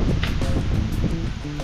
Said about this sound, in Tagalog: Lakas yung hangin dito sa atin.